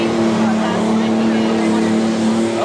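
A John Deere tractor competing in a tractor pull at a county fair, its engine giving a loud, sustained droning roar that holds steady throughout, with crowd noise in the background.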